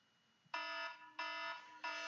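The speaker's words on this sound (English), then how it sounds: "And the timer is going off" A timer alarm goes off in three loud, sustained electronic tones, each about a third of a second to half a second long with short gaps between them, heard alone over quiet room tone.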